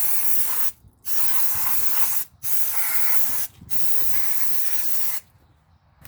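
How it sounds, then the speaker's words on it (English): Brake cleaner sprayed onto the front brake rotor of a 2005-2015 Nissan Xterra/Frontier, four close, loud bursts of hissing aerosol, each lasting about a second or more, separated by short gaps and ending with fading drips. "We're gonna hit it with some brake clean. We're gonna hit the rotor."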